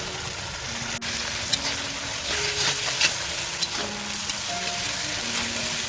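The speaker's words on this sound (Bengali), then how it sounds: "এখন মশলাটা দিয়ে কষে নিতে হবে।" Spices sizzling and frying in an iron wok, a steady hiss with faint scraping stir sounds throughout, close and continuous with no talking.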